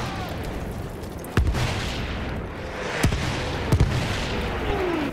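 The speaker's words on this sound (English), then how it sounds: "Wait for the enemy artillery barrage to stop firing." An enemy artillery barrage in a video game: a steady roar of battle noise broken by several sharp booming impacts, one near the start and a couple closer together later on.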